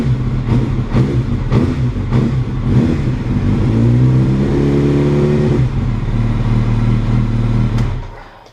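A Suzuki B-King motorcycle engine runs close by after an oil change, with a few sharp blips of the throttle and then a steady rumbling idle before it cuts off.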